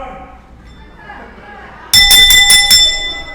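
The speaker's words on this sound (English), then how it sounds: "This is not going to work unless you ring the bell." A wrestling ring bell at a live pro wrestling show is struck about five times in quick succession, loud, bright and ringing, cutting in over a murmur of crowd noise and voices.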